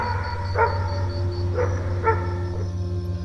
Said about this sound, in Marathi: दूर कुठेतरी कुत्र्यांच्या भुंकण्याचा आवाज येत होता